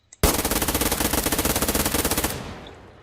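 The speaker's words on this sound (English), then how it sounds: "let's test fire this thing." Fully automatic gun test-fired in a video game prototype, one loud rapid burst of evenly spaced shots lasting about two seconds and then a short fading tail, with no talking.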